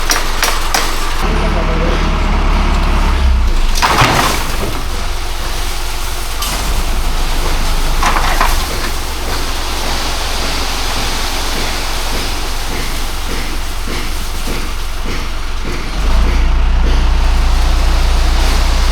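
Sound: truck delivering tiles, unloading

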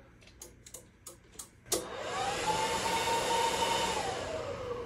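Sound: amplifier dyno load bank running

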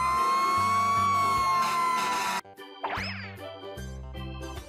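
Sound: fire truck siren

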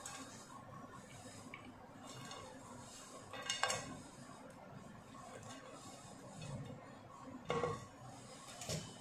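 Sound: serving noodles into a serving dish with utensils

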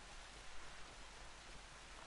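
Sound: rain in the video game Horizon Zero Dawn

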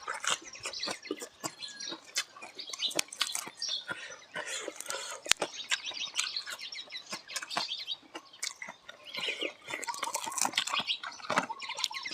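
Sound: raindrops starting to fall

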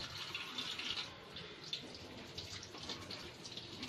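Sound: water running while washing cleaned fish

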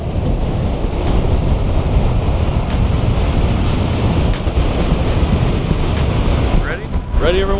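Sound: wind at the beach

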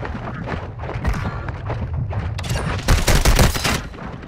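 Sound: gunfire in a video game

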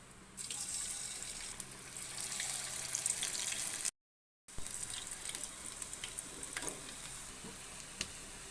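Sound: maida flour bondas frying in hot oil

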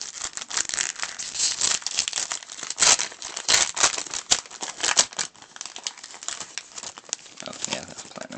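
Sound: opening Pokémon card packs from a Raikou tin

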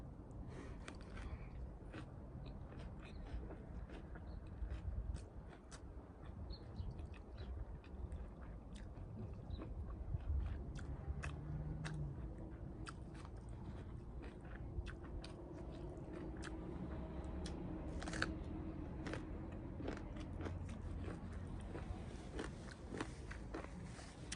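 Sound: chewing stir-fried pickled sour pork sausage with tomato

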